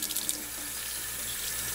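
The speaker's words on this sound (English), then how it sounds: "I'm running the water at the top." Tap water runs from a faucet into a sink, a steady close-up hiss and splash that continues evenly without talk.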